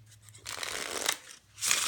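A deck of Cartamundi Magic Live playing cards is shuffled up close, giving two quiet, papery riffling bursts separated by a short pause.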